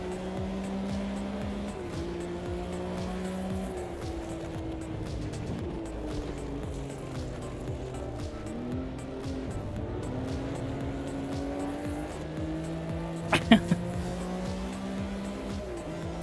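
Race car engine in a racing video game, with the throttle feathered: a steady engine drone rising and falling through gear changes for a long stretch, plus a brief sharp knock near the end.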